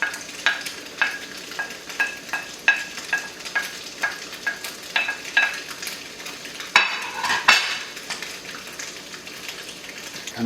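Noodles with beetroot are stir-fried in a pan, a utensil scraping and tossing in a steady rhythm of repeated strokes over a continuous sizzle, close and alone with no voices.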